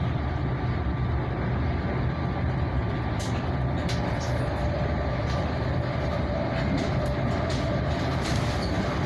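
A New Jersey Transit commuter train rumbles past steadily, broadband roar with wheel noise and occasional sharp clanks and squeals over the whole span.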